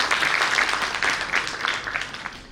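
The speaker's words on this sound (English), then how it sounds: "May we have a huge round of applause for our panelists." A conference audience applauds the panelists after a finance panel discussion, with sustained clapping that holds strong before gradually thinning out toward the end.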